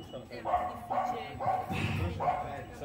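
A dog barks at a garden concert at a residence, five evenly spaced yelping barks in a steady rhythm, fairly close, with faint voices around it.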